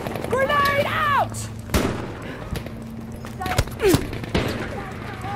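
Battlefield V multiplayer combat with several sharp gunshots and booms spread across the moment, close and loud, as players shout over the fire.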